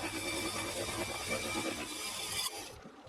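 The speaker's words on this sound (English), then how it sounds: "See how this new slitting saw performs." Slitting saw cutting metal on a lathe, a steady dense grinding rasp that runs continuously for about two and a half seconds, then drops away sharply to a quieter hum.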